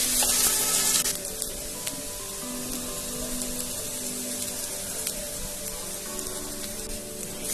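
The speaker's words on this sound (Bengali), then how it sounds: "পেঁয়াজটাকে খুব ভালো করে লাল লাল করে একটু ভেজে নেব" Three chopped medium onions frying in a little oil, a steady close crackling sizzle that runs the whole time, slightly louder at the start.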